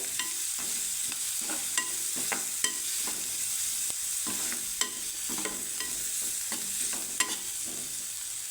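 Spoon stirs turmeric into capsicum and potato gravy frying in a pan, with repeated scraping strokes in a steady rhythm over a constant soft sizzle, close and moderately quiet, with no voices.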